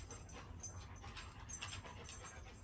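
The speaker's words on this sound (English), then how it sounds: "if you hear a lot of heavy breathing, that is my animal" A dog wandering indoors breathes heavily, soft rapid panting puffs repeating close by and faint, with no talk over it.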